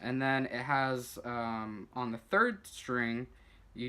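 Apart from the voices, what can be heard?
None of the usual background noises is heard.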